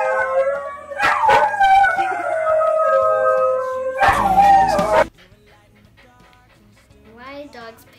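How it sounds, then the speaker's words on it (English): A dog howls in long, wavering tones alongside a siren-like wail, loud and sustained for about five seconds, then fading to faint scattered sounds and a brief whine near the end. "Did you ever wonder why dogs howl at the Leonian fire alarm?"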